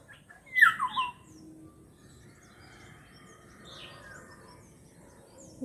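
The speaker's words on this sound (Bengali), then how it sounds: "এটা হলুদ বুলবুলি ডাকছে।" Yellow bulbul calling outdoors, a bright burst of chirps early on followed by softer scattered notes over faint insect hum, no one speaking.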